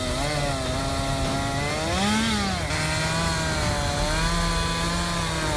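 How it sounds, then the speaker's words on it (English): Stihl MS-261C chainsaw cutting through a massive tree trunk, its engine droning loud and steady throughout with a brief rise in pitch partway through as the chain bites into the wood. "The steel MS-261C operates powerfully, its sharp chain effortlessly slicing through the massive tree trunk."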